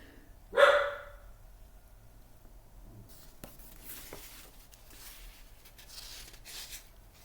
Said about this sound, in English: I'm sorry about the dog, but he's outside.